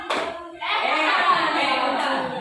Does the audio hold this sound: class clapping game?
yes